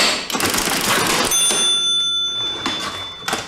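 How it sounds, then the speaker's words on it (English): Mechanical cash register rung repeatedly, with a busy clatter of keys and drawer followed by a clear sustained bell ring that slowly fades, then a final clunk. "The proprietor used the cash register to raise the alarm."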